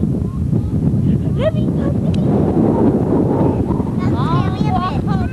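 Strong wind buffets the microphone with a constant low roar, while voices talk intermittently over it.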